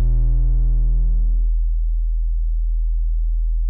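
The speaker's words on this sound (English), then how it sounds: "So now we've got this sine wave," An analog synthesizer sine wave modulated by the Brute LFO iPhone app, a loud low pulsing tone whose buzzy upper harmonics cut out after a second and a half, leaving a plain deep hum.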